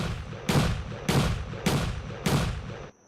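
A sawed-off Auto 5 shotgun fires four loud, evenly spaced shots in a video game, each a sharp boom with a decaying tail, with no talking.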